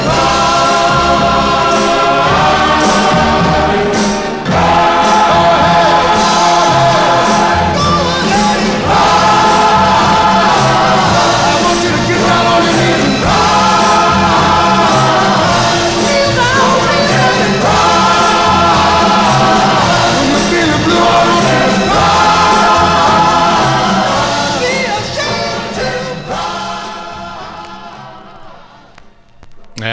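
A 1960s pop record plays loud with full band and lead vocals, a big swelling arrangement that fades down toward the end.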